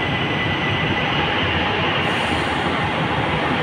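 An LRT Jabodebek train bound for Cibubur pulls in with a constant, loud, close roar of wheels and motors that holds evenly from start to finish, with no voices.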